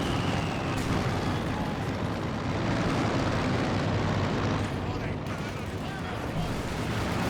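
Company of Heroes 2 battle with engineers firing their weapons: a continuous dense wash of gunfire, artillery rumble and battlefield noise, loud and unbroken, with a voice speaking over the din.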